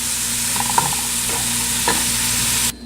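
Mushrooms sautéing in butter in a pan make a loud, steady sizzle with a couple of brief spatula knocks, cutting off abruptly at the end.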